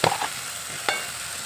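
Mutton sizzles in a hot pan as ginger garlic paste goes in, a brief burst of frying and stirring scrapes up close, then a steady soft hiss with one more short spatter.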